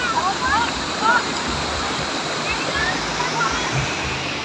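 Waterfall at Tat Nok Kok in Laos, a steady broadband rush of falling water running throughout, with faint chirps above it.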